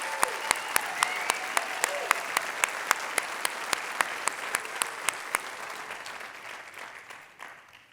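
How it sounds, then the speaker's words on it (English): A hall of fame induction ceremony audience applauds, dense clapping that slowly fades over several seconds, with one loud, regular nearby clap standing out repeatedly above the crowd. "give them the same round of applause"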